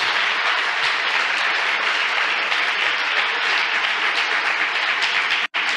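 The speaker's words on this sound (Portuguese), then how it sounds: "Você pode aplaudir o Senhor por isso?" Church congregation applauding loudly during a sermon, a thick, sustained burst of clapping that runs without pause before a brief sudden cut near the end.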